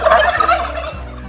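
Turkeys gobble on a free-range turkey farm, a loud, close burst of warbling gobbles over a steady low farmyard hum, with no voices.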